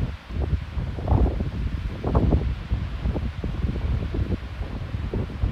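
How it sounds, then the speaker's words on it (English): Wind gusting across an open field while a grass fire burns, a steady rushing roar with crackling, surging bursts of flame throughout, fairly loud and close, no talking. "You can hear the wind behind me, but then you can hear the flames"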